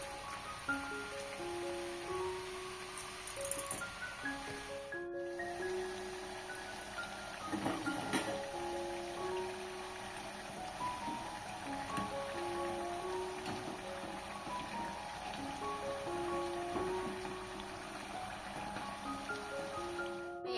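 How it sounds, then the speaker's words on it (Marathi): A single chakli slips into hot oil and sets off a steady, faint crackle of fine bubbling that runs on without a break beneath a melodic background tune. "तर मी एक चकली तेलात सोडते"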